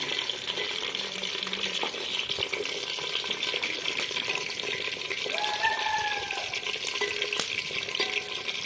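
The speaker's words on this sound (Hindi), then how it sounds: "प्याज को थोड़ी देर के लिए ऑयल में भून लेंगे।" Finely chopped onion frying in hot oil for a potato and egg curry sizzles steadily and densely up close, a continuous crackling hiss with faint stirring scrapes, no voices.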